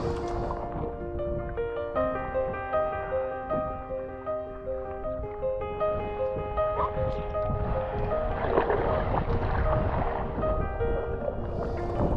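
Sea kayak paddling across the Sound of Harris near the Shiants in Scotland on slack tide, with steady rhythmic strokes and water swirl under wind noise and a continuous musical bed throughout.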